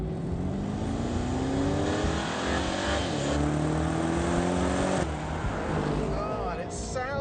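A turbocharged Aston Martin engine revs hard and climbs through the gears, its pitch rising in repeated sweeps with a brief shift dip. The sound is loud, close and continuous throughout.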